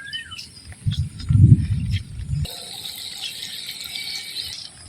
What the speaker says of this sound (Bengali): যাই হোক বৃষ্টিটা একটু কমছে